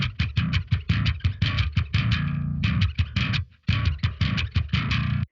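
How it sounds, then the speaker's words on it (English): Percussive bass guitar in a nu-metal arrangement, played as a rapid run of punchy, slapped-sounding attacks with a brief sustained stretch and one short gap, loud and up front with no voices. "we've got this percussive bass over here"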